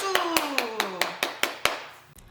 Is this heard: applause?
yes